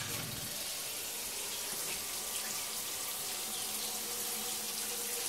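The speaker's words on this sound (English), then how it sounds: "always add water" Water runs from a kitchen tap in a steady, continuous hissing stream, moderately loud and unbroken for several seconds, with a brief low bump at the start.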